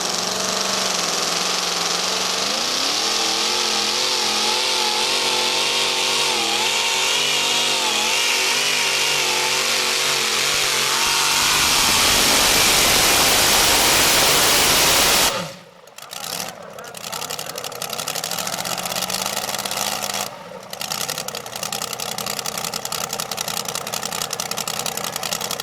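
A blown big-block Chevrolet pulling car roars at a truck and tractor pull, its engine climbing in pitch under full load, then sharply cutting out and sputtering before bursting back to a loud rough run.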